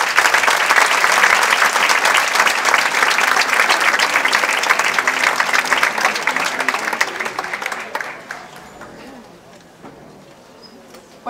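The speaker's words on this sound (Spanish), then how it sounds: "Así que un aplauso para ellos." An audience in a concert hall applauds a student wind-band performance with sustained, dense clapping that holds strong for several seconds, then thins out and fades to scattered claps.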